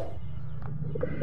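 Pigeons in a newly built backyard loft give soft, low coos, a few brief murmuring calls rising near the end over a steady low background hum.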